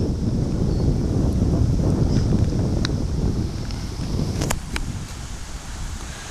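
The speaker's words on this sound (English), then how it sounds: "Wind again, so I'm going to let it roll for a minute" Outdoor wind buffets the microphone, producing a loud, continuous low roar and rumble that swells and eases, with a few faint clicks near the end.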